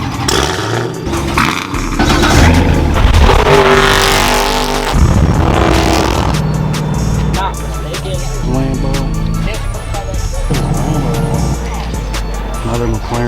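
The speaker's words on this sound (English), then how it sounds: "Another McLaren." A McLaren supercar roars loudly at a car show, its engine revving hard with sharp bursts and sustained growls, up close amid outdoor crowd noise.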